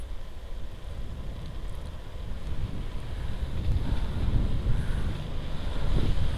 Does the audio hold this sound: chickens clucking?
no